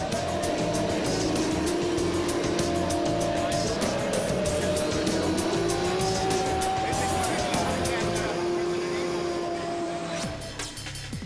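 Motorcycle racing in the 1998 video game Moto Racer 2 plays out as whining engine tones that rise and fall with gear changes, running steadily under a loud mix throughout.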